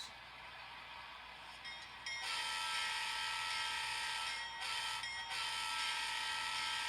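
Train horn in a train simulator game with a custom horn setting that changes its pitch, a sustained chord held steadily at moderate level with brief dips and breaks near the start and middle, no talking.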